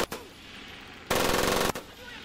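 Machine-gun fire in Medal of Honor Pacific Assault: one loud, dense sustained burst lasting about half a second, with a sharp shot just before it and another right after, over a low game ambience.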